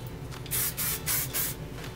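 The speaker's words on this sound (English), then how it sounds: "Spray a little bit." Three quick close bursts from an aerosol hairspray can, hissing sharply with short pauses between them.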